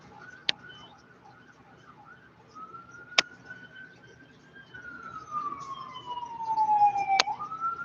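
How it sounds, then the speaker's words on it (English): A siren wails in the distance, its tone rising and falling, while a few sharp clicks punctuate the background. "It's ambulance too."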